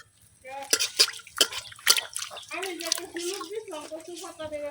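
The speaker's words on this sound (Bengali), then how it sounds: "সবগুলো পাতাই কিন্তু আমি এভাবে পরিষ্কার করে ধুয়ে নিলাম" Taro leaves washed by hand in water, with close splashes, drips and trickles in short bursts while a person talks over the sound.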